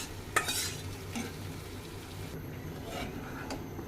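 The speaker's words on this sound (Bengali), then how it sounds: "পেঁয়াজটা ভাজা হয়ে গেছে, মাংসগুলো দিয়ে দেই।" Chicken pieces go into oil with fried onion, and a sharp scrape and clatter of stirring gives way to a steady, close sizzle.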